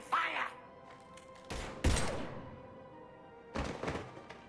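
Heavy gunfire bursts in the Mass Effect video game, a few booming thuds spaced over several seconds with echoing tails, loud and up close.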